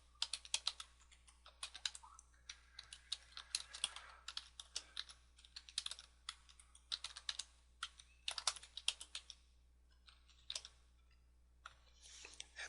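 Bursts of close, crisp clicks from someone typing on a computer keyboard, with short pauses between runs in a quiet room.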